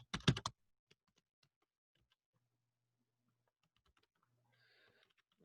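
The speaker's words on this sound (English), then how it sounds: "You have to type a little bit of the name of the course." Typing on a computer keyboard: a quick cluster of keystrokes at the start, then sparse, faint taps spread out over near silence.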